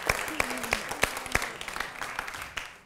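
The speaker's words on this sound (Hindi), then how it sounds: "आपकी तालियां ऐसी ही बजती रहें" An audience at a Hindi poetry event applauds steadily, a dense wash of clapping with sharp individual claps standing out and a faint voice briefly underneath, fading toward the end.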